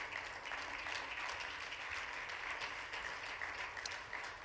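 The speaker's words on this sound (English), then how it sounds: "Can we give a round of applause for our panel up here?" Steady applause for a panel at a church round-table gathering, a continuous wash of many hands clapping at moderate distance, fairly faint and without talk.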